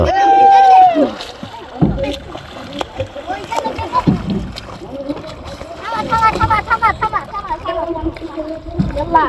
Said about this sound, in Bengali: এত সুন্দর নৌকা চালায়